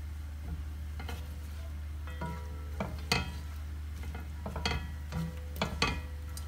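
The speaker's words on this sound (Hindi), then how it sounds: "दो से तीन मिनट तक मैं इसको इसी में फ्राई करूंगी।" Carrots fry in hot ghee in a pan, a steady sizzle under a low hum, broken by several sharp metallic scrapes and clinks of a spoon stirring.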